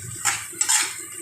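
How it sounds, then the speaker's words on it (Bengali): Diced capsicum is stir-fried with spices in a pan for an egg dish, with two quick metallic scrapes of a spatula against the pan over a soft frying hiss. "এবার ভালো করে মশলার সাথে ক্যাপসিকামটাকেও ভাজা করে নেব"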